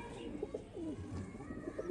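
Domestic pigeons coo in soft, low, rolling calls, a few repeated phrases over a steady background hum, close but gentle, with no clear talking.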